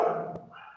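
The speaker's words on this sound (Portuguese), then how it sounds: "os cachorros aqui estão incomodando" Dogs barking nearby, a single bark-like burst with tonal whine rising over a brief moment, fairly loud and alone without talk.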